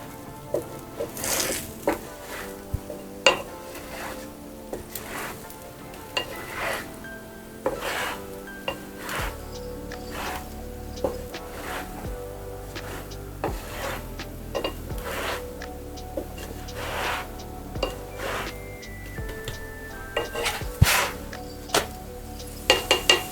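An aloo-pudina paratha is turned and roasted on a hot pan, with repeated soft scrapes and taps of a utensil against the pan and a low sizzle running under them, close and fairly quiet.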